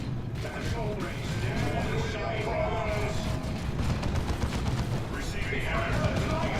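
Dense, continuous gunfire and explosions rumble through a one-on-one video game battle, with a voice speaking over the constant barrage.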